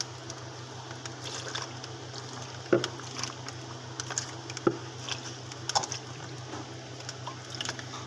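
Water is poured over thick ice buildup inside a Samsung inverter fridge, making a quiet, steady trickling and squishing wash with a few soft irregular clicks and splashes over a constant low mechanical hum.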